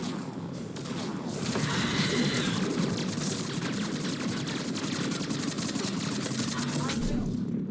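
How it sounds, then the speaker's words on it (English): Sustained machine gun fire in the video game Mass Effect 3, a loud rapid stream of shots rattling steadily for several seconds with faint voices mixed beneath. "Machine guns."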